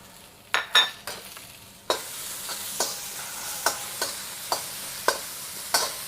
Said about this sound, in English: We just want to stir fry this until we can smell it.